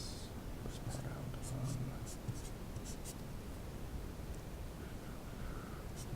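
Pen or marker writing out an equation, heard as a faint, continuous scratching and rustling with small strokes and taps under a low hiss.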